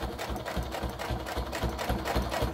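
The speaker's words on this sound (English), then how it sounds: "I'm actually just pushing this through, pushing it along as it sews." A sewing machine stitches steadily through fabric, a close, rapid, even mechanical whir with a regular needle rhythm.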